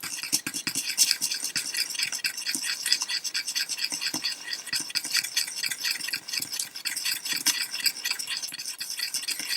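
A brush or stick stirs watery white tube paint, making quick, rhythmic scratchy strokes that repeat close up and alone.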